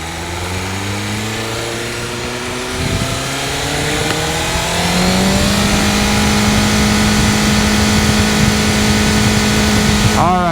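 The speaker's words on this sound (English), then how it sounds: "we're gonna start out in road mode here, the quiet sound version of this bike here" BMW M1000R motorcycle fitted with an Akrapovic exhaust, revving in its quieter road mode; a loud, steady engine note rises in pitch and builds over several seconds, with a voice faintly audible beneath.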